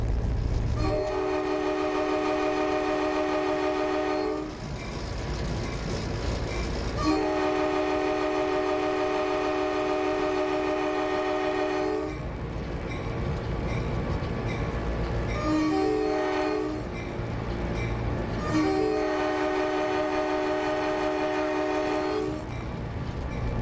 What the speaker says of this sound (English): Hang on a minute, John, I gotta blow the horn.